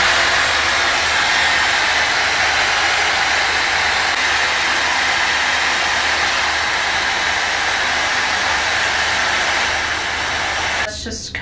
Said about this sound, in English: So this is what it sounds like when I turn it on.